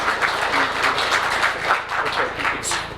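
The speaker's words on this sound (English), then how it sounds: "We all know the applause was more for Emily than anything else" Audience applause at Woodbridge Township's autism awareness flag raising ceremony, a dense burst of many hands clapping, loud and steady with slight swells, no talking over it.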